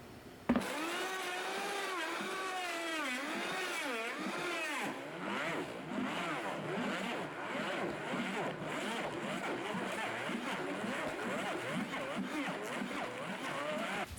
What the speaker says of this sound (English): This is an old Vitamix.